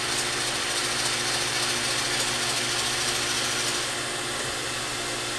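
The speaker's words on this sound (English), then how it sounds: "mill this off and take a light cleanup on this" A milling machine side-mills a part clamped in a vise, making a steady loud whirring, grinding cut with a constant mechanical drone that eases slightly near the end.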